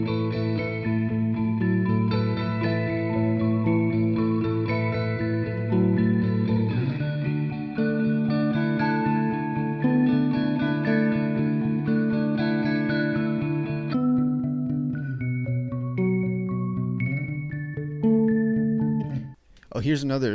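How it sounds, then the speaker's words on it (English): Bass and guitar music with RC20 effects processing, a steady layered tune with sustained chords and a melodic line running throughout, continuous and fairly loud before a brief dropout near the end. "So this with the bass and the guitar sound like this."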